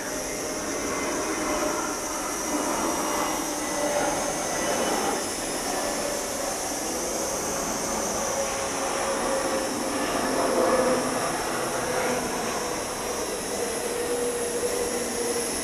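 A small JJRC Ferry foldable selfie drone flying outdoors in wind, a steady whining propeller buzz with continuous wind rush throughout.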